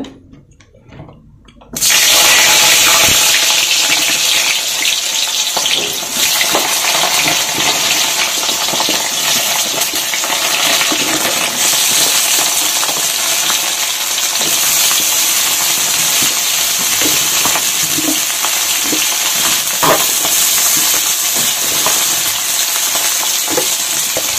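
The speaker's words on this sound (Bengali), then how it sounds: "আমি বেগুনগুলাকে একটু ভেজে নিব।" Eggplant pieces frying in oil for a Bengali tel begun jhal, a loud, dense, continuous sizzle that bursts in after a brief quiet start and holds steady close by, with faint clinks of stirring.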